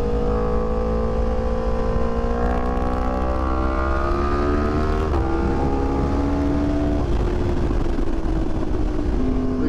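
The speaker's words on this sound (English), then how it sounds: "Exhaust note is so good." A 2020 Yamaha R1M sport motorcycle's exhaust note while riding: a loud, continuous engine drone climbing through gears with rising pitch sweeps and shifts, close to the microphone amid wind rush.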